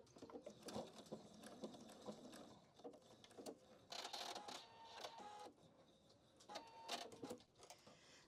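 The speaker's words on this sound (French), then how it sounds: "Donc là, hop, je fais ma couture." A sewing machine stitching a seam on a handbag organiser, quiet mechanical whirring in short runs with stops and starts, close by and without talk.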